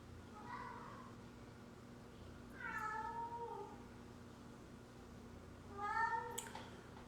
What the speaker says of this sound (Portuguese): Nossa, como esse gato tá manhoso hoje, olha ele miando ali.